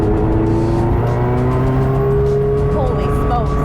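Prodrive P25 carbon fiber car accelerating hard, a loud, close engine roar rising steadily in pitch through the gears with faint tire noise, continuous and dominant throughout.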